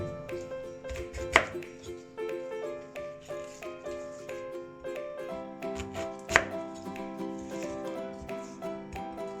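A knife chops beetroot on a board in a steady, unhurried rhythm of soft thuds, with two sharper, louder strikes standing out, all heard close and without talk.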